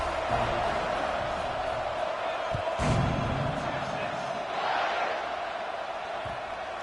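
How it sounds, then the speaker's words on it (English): Football stadium crowd buzzing after a touchdown, a dense steady roar of many voices with a brief swell near the middle, continuous throughout at moderate distance. "this crowd is buzzing after that last score"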